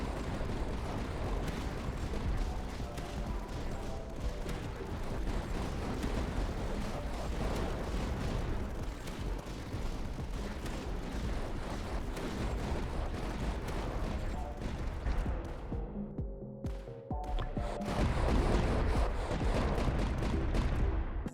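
Missile launcher fire and heavy explosions blast through a dense, continuous barrage in the tower-defense game Tower Dominion, with a brief lull before the booming resumes louder.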